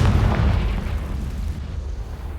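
A booming Confringo fire-blast spell explosion in Hogwarts Legacy, a loud, heavy low rumble that hits at once and slowly fades, with no talking.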